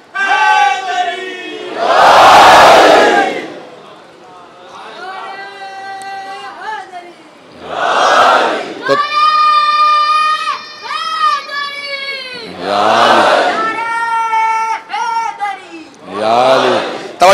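A majlis crowd shouting the slogan Haidari with raised hands, several loud massed chant bursts at intervals, separated by a single voice leading in a drawn-out, sung call.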